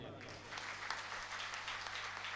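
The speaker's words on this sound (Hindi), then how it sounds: "आप लोग अपने लिए एक बार ताली बजा लीजिए" An audience claps steadily at a Shrimad Bhagavat Katha religious discourse in Kim, Surat, a dense, continuous applause heard under a voice.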